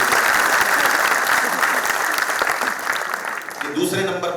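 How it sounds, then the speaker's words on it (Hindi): Loud audience applause for a poet at a poetry tribute event, a dense, close burst of clapping that continues most of the way before easing as a voice begins. "एक बार जोरदार तालियां चरणजीत चरण के"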